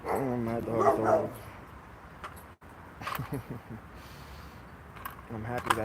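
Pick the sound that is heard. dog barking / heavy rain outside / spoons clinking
dog barking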